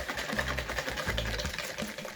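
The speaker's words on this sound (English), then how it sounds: "you just add all the ingredients to a bowl and whisk until soft peaks" An electric whisk runs steadily close by, whipping cream with sugar and vanilla in a bowl to soft peaks, a continuous motor whir with a faint sloshing churn and no speech.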